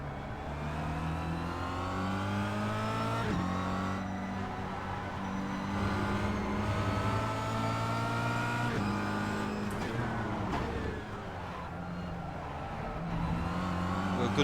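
Kia Cup race car at Interlagos pulling hard out of a corner, its engine note climbing steadily through the gears with brief shift breaks, loud and close throughout, with no talk.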